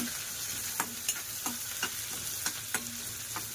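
Onion and curry leaves fry in a pan with a soft steady sizzle, punctuated by regular spatula scrapes and taps roughly every third of a second, quiet and close.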